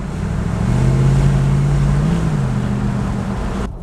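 A Lexus GX470 V8 exhaust with SPELAB remote cutouts open rumbles in a deep, steady drone as the truck drives by, swelling and easing, then cutting off abruptly at the end.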